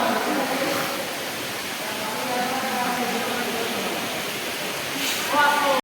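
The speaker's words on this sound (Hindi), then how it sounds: "एत जोर से वर्षा है" A constant, dense hiss of heavy rain pours down without pause in Balangir, with faint voices buried under the downpour.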